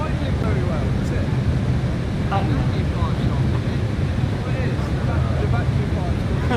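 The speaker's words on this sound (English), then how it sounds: "the exhaust sounds meant to be V8." Idling aircraft engine in the Flight Simulator 2020 video game, its exhaust voiced to resemble a V8, gives a steady, loud, low rumble that continues unbroken throughout.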